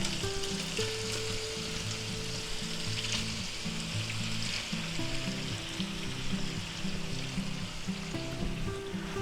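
Red peppers, green peppers and onions sizzle steadily in a pan, a continuous close frying hiss over a low background hum, with no voices.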